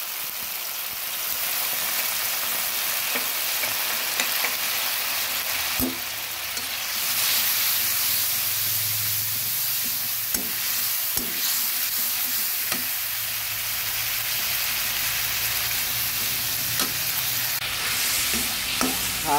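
Ground coriander and cumin fry with a little water in a pan, a continuous soft sizzle broken by repeated scraping and knocking of a spoon as they are stirred, heard close with no voices.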